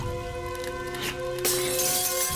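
Glass windows shattering in Minecraft as Siren Head's sirens break them: a bright crash of breaking panes bursts out around midway over a steady tonal game hum, then scatters into tinkling fragments.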